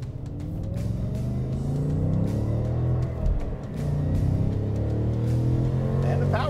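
Modified 2024 Ford Mustang GT, seventh generation S650, accelerating hard, its engine droning steadily and rising in pitch from inside the cabin, with a brief dip midway and a person talking over it.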